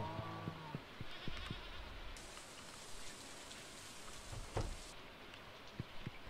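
Sheep bleating in the Stardew Valley farming game: a few faint, short calls scattered over a low steady hiss, with one brief sharper sound partway through, quiet and without any voices.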